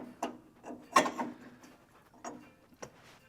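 Intakes on a 1973 VW Super Beetle 1760 cc engine with dual 40 carburetors are slid down into place. Faint metallic clunks and scrapes come in a handful of separate knocks over a few seconds.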